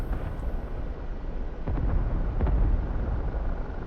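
High explosive rockets fired from an OH-58D Kiowa Warrior helicopter in DCS World burst in a deep, rolling rumble, with a couple of heavier thuds landing close together over a constant low roar.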